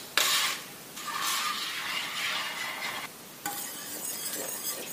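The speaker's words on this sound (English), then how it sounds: "We're going to continue to stir as well so we don't scorch it." Cheese melting into cream in a pan for creamy mac and cheese, stirred steadily: a close, continuous scraping swish with a soft sizzle beneath, pausing briefly twice before resuming.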